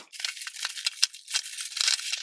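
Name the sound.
unwrapping the packaging of a hair crimping iron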